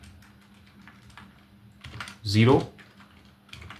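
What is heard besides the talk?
typing on a computer keyboard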